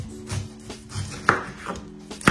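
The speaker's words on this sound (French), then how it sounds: "on va s'occuper de notre ananas. On va le couper en rondelles" A knife slicing through a ripe pineapple into rounds, a series of close, firm cuts with soft thuds on a board, spaced unevenly and heard alone.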